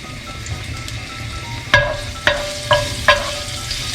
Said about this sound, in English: Add in some garlic, have it sizzle a bit.